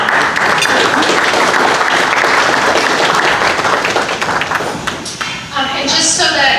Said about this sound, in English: Applause is loud.